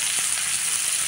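Onions frying in a pan for gongura tomato curry, a steady loud hissing sizzle, close and continuous without talk.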